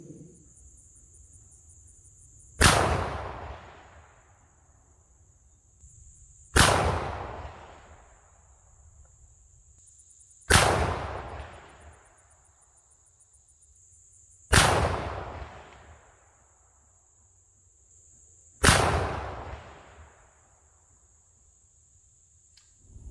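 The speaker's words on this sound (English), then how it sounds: "I'll come back up here and I'll shoot our 5 rounds and see what kind of accuracy we can get." Five loud shotgun blasts from a Remington 870 Magnum firing Remington Premier Copper Solid 3-inch 1 oz sabot slugs at a range, spaced about four seconds apart, each a sharp crack with a decaying tail over a steady insect chirp.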